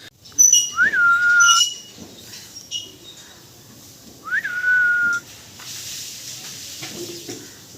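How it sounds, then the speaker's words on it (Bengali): A parakeet in a guava tree gives two clear rising whistled calls a few seconds apart, loud and close, with faint chirps and light background noise between them. "আজকে বন্ধুরা প্রথমবার আমাদের পিয়ারা গাছে টিয়া পাখি এসছে"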